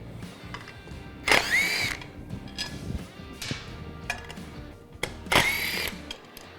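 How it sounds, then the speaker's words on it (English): A power drill spinning a 7/16 deep well socket to remove breather bolts on a motorcycle air cleaner, two short whirring bursts close by with clanks and handling noises between. "all that's left is the 2 breather bolts using a 7/16 deep well socket."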